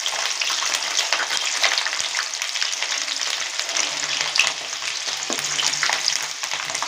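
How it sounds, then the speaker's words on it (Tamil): A cup of garlic cloves fries in hot oil with mustard seeds and fenugreek for a taro kara kuzhambu, a loud, steady bubbling sizzle with light stirring, close and continuous without talk. "நம்ம இந்த ஒரு கப்பு பூண்டு பல்லு இதில் சேர்த்துக்கலாம்."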